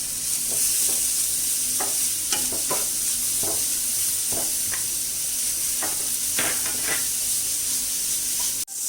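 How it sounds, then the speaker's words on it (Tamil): Grated carrot and beetroot for halwa stirred in a hot pan, a constant frying sizzle and hiss with repeated scraping clicks from the spoon, close and loud, ending with a sharp knock. "இப்போ நம்ம கேரட்டும் பீட்ரூட்டும் நல்லா ஈரப்பசை இருக்கிற அளவுக்கு ஒரு லைட்டாக ஒரு ஃப்ரை கொடுத்துக்கணுங்க"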